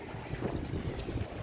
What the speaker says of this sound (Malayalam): വലിയ ചൂടൊന്നും ഫീൽ ചെയ്യുന്നില്ല, കാരണം കാറ്റടിക്കുന്നതുകൊണ്ട് നല്ല സുഖമാണ്.